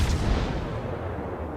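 Heavy naval guns boom in a World of Warships-style naval battle against the destroyer Khabarovsk, a dense low rumble of repeated cannon fire rolling on without a break, loud and close.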